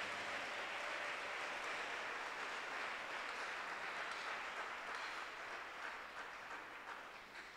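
A church congregation applauds together to acclaim the Lord, a steady, even wash of many clapping hands heard from within the hall, fading slightly toward the end.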